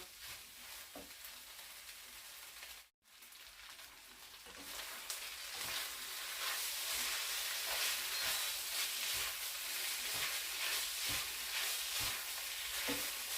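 Dry pad kaphrao being stir-fried in a pan, with a steady loud sizzle and repeated scraping stirs of the spatula after a brief pause near the start.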